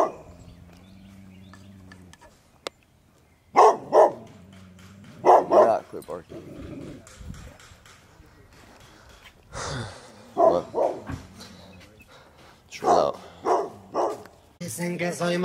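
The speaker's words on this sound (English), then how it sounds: "This dog will not quit barking." A dog barks in repeated loud bursts, separated by pauses, with people talking in between.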